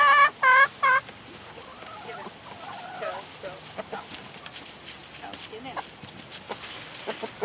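Chickens at a homemade automatic grain feeder, a few loud close clucks at the start, then softer scattered clucking and scratching over a faint background.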